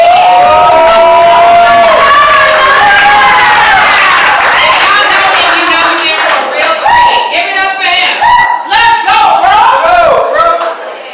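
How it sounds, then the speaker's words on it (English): Open mic poetry audience clapping and cheering loudly, whoops and shouts over steady applause that turns into rhythmic rounds of clapping and call-outs near the end. "Now clap it up as we bring guest speaker up to the stage."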